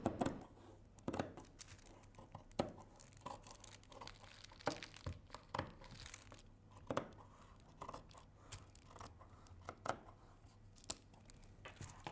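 Scissors cut through cutwork embroidery fabric on a table in a series of faint, close crisp snips and crinkling rustles, irregularly spaced, with no voices.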